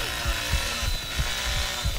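A chainsaw idles and revs in the Texas Chain Saw video game, a loud close mechanical drone with rhythmic low thumps pulsing several times a second, without talking.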